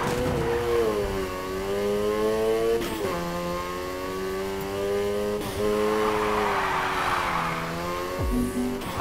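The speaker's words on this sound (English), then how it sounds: "You're drifting." A car drifts in the racing video game Need For Speed Heat: a loud, steady engine drone rises and drops through gear shifts while tires squeal and skid continuously across the whole stretch.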